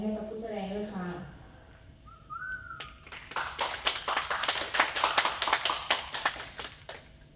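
Someone speaks briefly in Thai, then a burst of applause rises for a performer at a junior recital, many hands clapping in a dense, scattered rhythm from a crowd.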